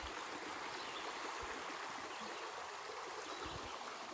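A creek with a red streambed along the North Country Trail at State Game Land 72, flowing in a steady, quiet rush of water with no voices.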